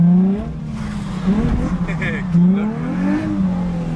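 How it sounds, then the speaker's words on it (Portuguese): A car drifting on a wet track in the rain, revving hard as the handbrake is pulled and the clutch kicked, with tire and engine noise rising and falling over about four seconds while people talk inside the car. "Puxou o freio de mão. Deslizou, chutou a embreagem."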